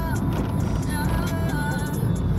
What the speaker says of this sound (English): See all them big dirty stinking truck there come?